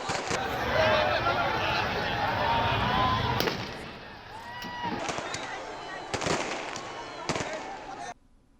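Fireworks burst at a crowded street celebration of India's cricket win at Albert Ekka Chowk in Ranchi, with sharp pops and crackles standing out over a dense roar of crowd noise and chatter.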